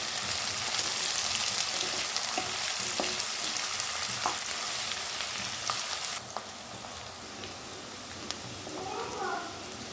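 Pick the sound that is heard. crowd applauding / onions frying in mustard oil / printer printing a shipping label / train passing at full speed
onions frying in mustard oil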